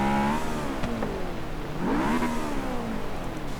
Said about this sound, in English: This car actually does sound pretty decent.